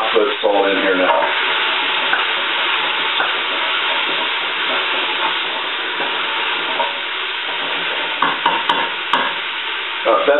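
Onions fry in a pot for radish soup with a loud, continuous close-up sizzle and hiss, broken by stirring scrapes toward the end.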